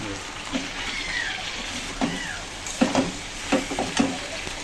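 Young jackfruit with shrimp, soybean and potato sautéing lightly in a pan gives a steady close sizzle with occasional stirring scrapes and brief higher vocal-like sounds on top.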